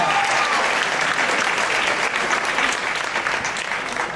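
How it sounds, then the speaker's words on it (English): A school assembly crowd applauds the torch champions, a dense, loud burst of clapping that stays steady throughout before easing slightly at the end. "Give them a big round of applause."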